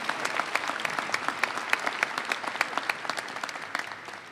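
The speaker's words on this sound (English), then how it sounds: "Let's give them a round of applause again for their remarks." A college commencement crowd applauds in a broad, even wash of clapping, with a few sharper nearby claps standing out and the sound tapering off toward the end.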